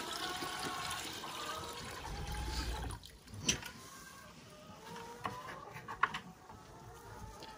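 Ice water sloshes and trickles steadily in a cattle drinking setup, a continuous watery wash that eases midway, followed by a few small splashes and drips.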